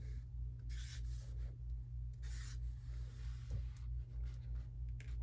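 A pen drawing a diagram of the SO2 molecule on paper, steady scratching and rubbing strokes in short bursts over a constant low hum, close and fairly quiet.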